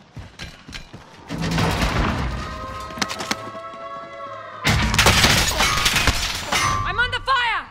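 A grenade blast and bursts of gunfire in a Call of Duty-style battle royale match sound as loud, dense crashing booms and rapid cracks in two long surges, with metallic clangs and brief electronic tones between them.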